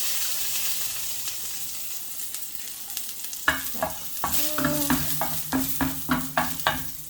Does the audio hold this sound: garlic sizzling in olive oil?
yes